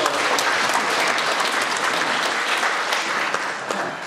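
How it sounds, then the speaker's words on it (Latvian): A concert hall audience claps at an anniversary concert of a men's vocal ensemble, a loud, dense burst of applause with distinct individual claps audible, steady for the whole stretch and tapering slightly at the end. "Ilmāram aplausi"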